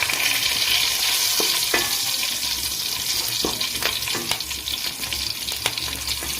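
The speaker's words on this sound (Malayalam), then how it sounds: "നമുക്കതിലേക്ക് 2-3 പച്ചമുളക് ഇട്ട് കൊടുക്കാം." Green chillies hit hot oil with garlic already browning in a pan, giving a steady close sizzle and crackle with occasional sharp pops and stirring clicks, no voices.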